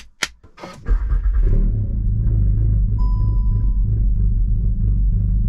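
A turbocharged GTI starts up with a couple of sharp cranking bursts, then settles into a deep, steady idle rumble close by, with a brief whine near the end.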